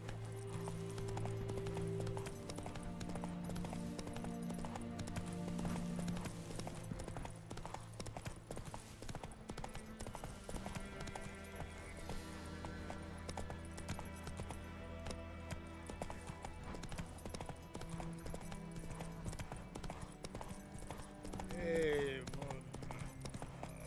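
A horse gallops in The Witcher 3, its steady rapid clip-clop of hooves running throughout at low level beneath background music, with a voice speaking over it at times.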